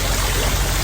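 Steady rushing of running water outdoors in Carlsbad Village, a continuous broadband wash with no voices, close and fairly loud for under a second.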